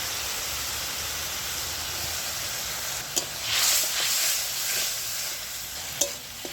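Spices and tomato frying in a pan for a bhola fish curry, a steady close sizzle with brief louder hissing bursts and a couple of sharp clinks as the mixture is stirred.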